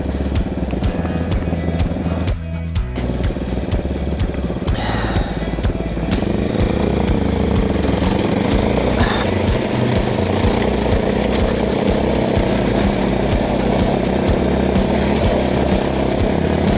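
A motorcycle pulls away in second gear on a hidden trail in the Peak District, its engine loud and close, droning steadily with rising revs throughout.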